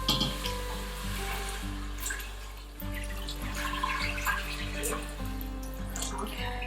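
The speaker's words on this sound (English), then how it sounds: "I'm going to deglaze again with 4 cups of water" Steady running water pours and splashes into an Instant Pot pot while deglazing, over a low background hum, continuous for several seconds.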